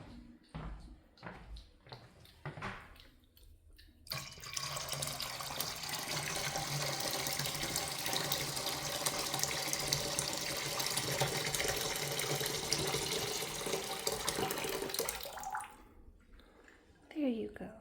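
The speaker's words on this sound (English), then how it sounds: "I need to put another pitcher of water in there" Water pours from a tap into a pitcher in a steady, hissing rush lasting several seconds, preceded by faint clinks and ending abruptly, with a soft voice briefly at the end.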